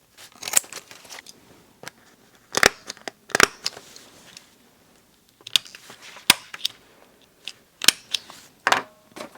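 Scissors snipping through small bits of scrap paper for a handmade junk journal, a series of sharp, close crisp cuts in irregular bursts with quiet pauses between.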